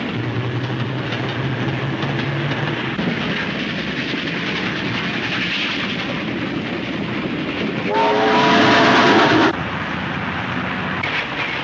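A moving train in a 1934 adventure serial, rumbling steadily throughout with a clattering rail rhythm, a brief horn or whistle tone near the start and a louder whistle blast toward the end.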